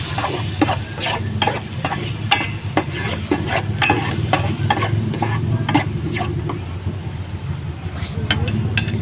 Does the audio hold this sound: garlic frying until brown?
yes